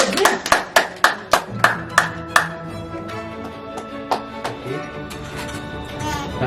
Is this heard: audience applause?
yes